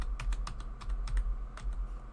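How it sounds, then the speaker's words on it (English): Computer keyboard keys clack in quick, irregular bursts of typing, close and steady, over a low hum with no talking. "I'm having trouble with my keyboard."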